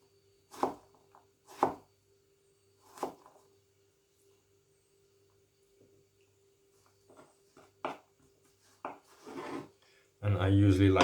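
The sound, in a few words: knife chopping onion and vegetables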